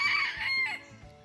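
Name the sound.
chickens crowing and clucking on a homestead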